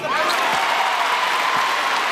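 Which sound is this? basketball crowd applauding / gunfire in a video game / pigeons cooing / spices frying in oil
basketball crowd applauding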